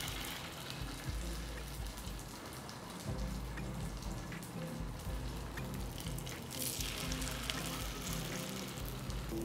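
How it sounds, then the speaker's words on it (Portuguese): Vegetable pancakes fry in chive oil in a pan with a dense, continuous crackling sizzle that stays fairly even and close the whole time. "a gente vai usar o mesmo azeite da cebolinha para começar a fritar as panquequinhas"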